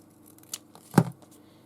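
Scissors snipping paper while a little book is covered in a craft project, with one faint snip followed by a single sharper, closer cut in an otherwise quiet room.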